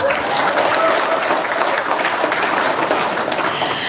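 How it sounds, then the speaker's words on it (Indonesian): Audience applause fills the whole stretch, a dense, steady wash of clapping at a sales seminar on local trading wisdom, loud and continuous with a faint murmur of voices. "Tepuk tangan dulu dong."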